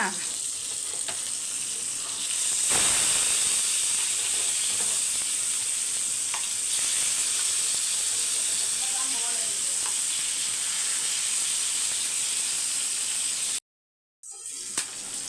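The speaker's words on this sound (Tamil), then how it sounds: "இப்போ வந்து மீனெல்லாம் வறுத்துட்டு" Fish pieces, including sankara fish, sizzle and fry steadily in a pan with a continuous loud hiss, broken by brief stirring sounds and a short silent gap near the end.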